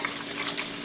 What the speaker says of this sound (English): Let me wash my hands real quick here.